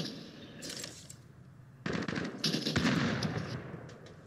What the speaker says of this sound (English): Who is he shooting at?